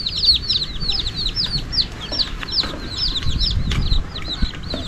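Chickens and geese cluck and call in a busy, overlapping chorus, with repeated short calls close by over a low rumbling background.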